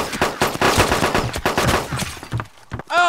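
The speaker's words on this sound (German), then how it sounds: "Ich hab doch schon als erster geschossen" Rapid gunfire rattles in a dense burst in the survival video game DayZ, loud and close, fading into a few scattered shots at the end.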